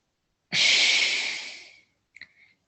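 Breathing during a yoga breathing exercise: one long, forceful exhale through the nose, close and airy, tapering over about a second, followed by a couple of short, faint sniffing breaths.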